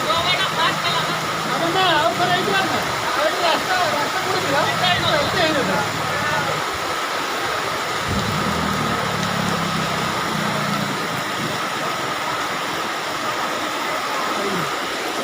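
Floodwater rushes steadily through Suliapada square, a constant broad roar that fills the scene without pause, with faint engine-like noise and distant voices mixed underneath.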